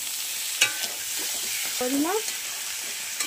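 Fried potatoes stirred with cauliflower and carrot in a frying pan, a steady close sizzle broken by a few scraping stirs, with a brief spoken word.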